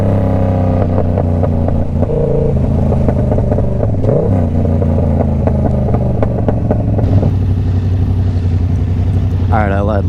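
A 2024 Yamaha R7 motorcycle fitted with an SC Project full exhaust idles loudly and revs repeatedly, the engine rising and falling close by at steady high volume, with a brief sharp rise in pitch near the end.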